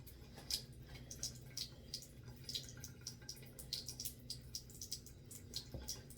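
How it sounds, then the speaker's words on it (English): Water being added to the ends of someone's hair: a run of soft, evenly spaced wet spritzes or drips over a quiet background, with no speech. "what I'm going to do right now is add some more water to the ends of my hair too."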